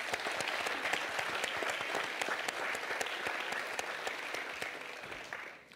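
An audience at a sports media summit applauds an honoree, a sustained run of many overlapping claps, moderately distant and even, tapering off in the final moments.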